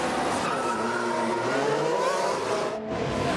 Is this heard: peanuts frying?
no